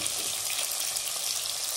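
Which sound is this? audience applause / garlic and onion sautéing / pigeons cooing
garlic and onion sautéing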